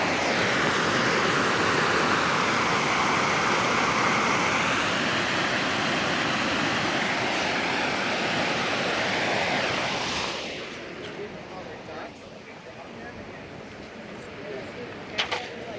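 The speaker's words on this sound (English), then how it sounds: "You can see the water coming through the dam, and there's a part of the dam too where you can see the water flow." Water pours steadily through the Nevada Mills Dam in a broad, constant rushing roar, heard nearby, which drops to a quieter, more distant wash toward the end.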